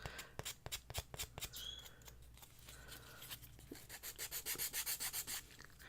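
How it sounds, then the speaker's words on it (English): A 320-grit emery board nail file rubs back and forth in quick, soft, rhythmic strokes, close up and fairly quiet, with the strokes getting steadier toward the end. "I usually use these emery boards to sand anything like that"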